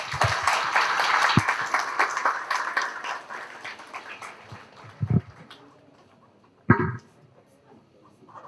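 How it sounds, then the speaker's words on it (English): Summit audience applauding to welcome guests: sustained loud clapping from a crowd that fades out, followed by a few isolated thumps. "I would like all of you to welcome them with a huge round of applause."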